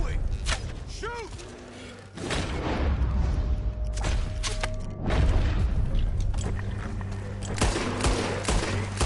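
Gunfire rings out in Red Dead Redemption 2 during a bear encounter, several loud close shots with booming tails spread across the stretch, mixed with game sounds and a voice talking in between.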